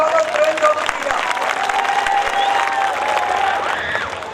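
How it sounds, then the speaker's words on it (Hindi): Audience clapping at a live comedy show at Ram Ghat, with a crowd cheering while someone talks over the applause and a tonal sound runs through it. "एक बार जोरदार तालियों से फिर स्वागत"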